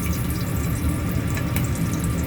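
Garlic drops into heated oil in a pan for vegetable fried rice, giving a brief, dense, even sizzle up close with no voices.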